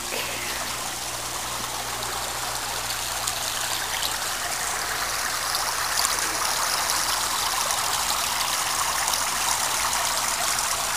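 Water pumped through aquaponics pipes and towers on a porch pours into a fish tank, a steady close splashing trickle that runs continuously and evenly throughout.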